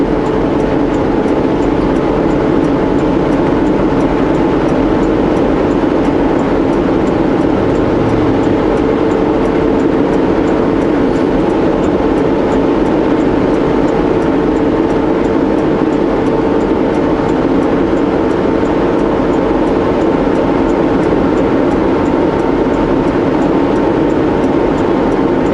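Heavy truck engine downshifting while hauling a tarped load: a loud, steady diesel drone with constant road rumble runs throughout, with no clear breaks between gears.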